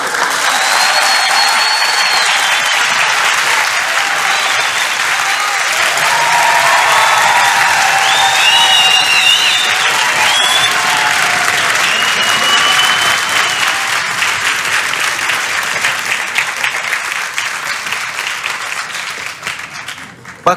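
A studio audience applauds in a sustained wave of clapping with scattered cheers and voices, holding loud and even for a long stretch before thinning out toward the end.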